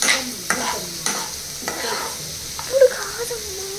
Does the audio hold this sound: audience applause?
no